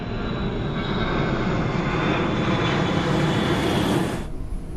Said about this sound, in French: Dans le ciel, le vol 311 de Thai Airways.